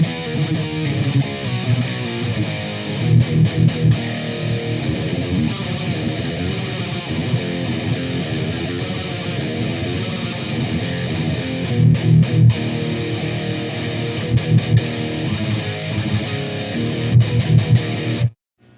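Heavy distorted electric guitar through a Ghost Note Audio Vader 140 amp, chugging palm-muted riffs with periodic accented hits and brief stops, loud and continuous for nearly twenty seconds before cutting off.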